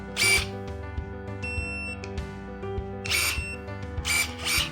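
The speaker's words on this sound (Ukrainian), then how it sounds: "секатор закривається при натисканні курка повністю" Stocker 311 / Vulcano E-30 electric pruning shears from Italy close on a full trigger press, giving a steady motor whine with sharp mechanical clicks and short buzzing bursts, repeated several times close up with no talking.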